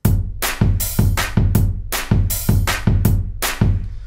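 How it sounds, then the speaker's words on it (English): Punchy layered claps from the chorus of a song hit in a steady rhythm over a thumping beat, about a dozen sharp hits in a loud, dense mix. "now I'm going to show you the clap sounds in the chorus part"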